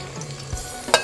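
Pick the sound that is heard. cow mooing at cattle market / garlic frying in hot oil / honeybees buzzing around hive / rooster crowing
garlic frying in hot oil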